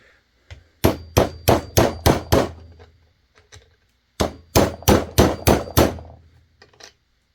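A hammer strikes metal on a Poulan 2150 chainsaw crankshaft in two quick bursts of six or so ringing blows, each sharp clang close and loud, with a pause between bursts.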